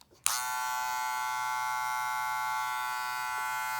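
An Andis Master electric hair clipper, a solid black model modded from a Wahl, switches on with a click and then hums in a steady, close, high buzz that holds for several seconds with no talking.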